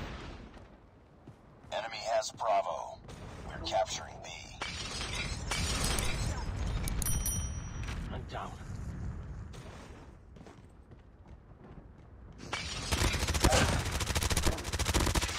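MP5 submachine gun fire in Call of Duty Mobile on the Damascus map, with sharp rapid bursts, shattering impacts and in-game effects throughout, heaviest near the end, while someone talks over the action.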